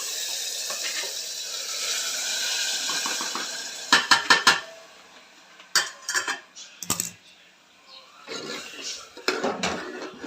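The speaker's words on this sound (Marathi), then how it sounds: "त्याच्यामध्ये आपल्याला गरम पाणीच टाकायचं आहे, थंड पाणी टाकायचं नाही आहे" Hot water goes into a pot of village-style mutton curry on the stove, first a steady hiss, then bursts of metal clatter and splashing from the pot and utensils, close by.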